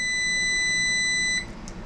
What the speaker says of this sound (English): we got a timer going off because that's on the giblets for us to check them